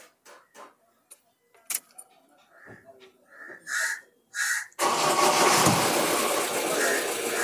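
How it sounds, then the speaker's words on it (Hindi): A Mahindra Bolero MaxiTruck BS6 diesel engine with a starting fault cranks and catches, then runs rough and loud in a continuous shaking roar, preceded by crow caws and scattered sounds. "देखो इंजन पूरा हिल रहा है"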